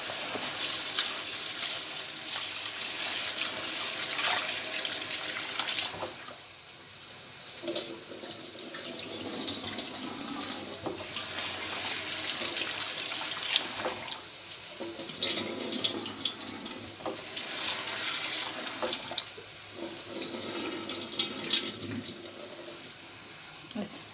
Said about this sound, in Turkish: Bulgurumuzu kabımıza alalım. Ve sudan geçireceğiz.